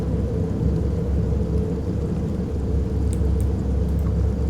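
Rain pours down with a low, continuous thunderous rumble, a dense steady roar with a few brief sharper clicks, no voices.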